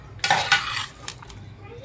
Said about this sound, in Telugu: దీని మొత్తాన్ని బాగా కలిపేసుకోవాలండి.